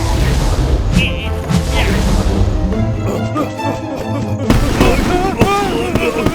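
Cartoon firecrackers bursting in a Bablu Dablu bears animation, with a rapid run of loud bangs, cracks and crackling pops over lively background sound and voices.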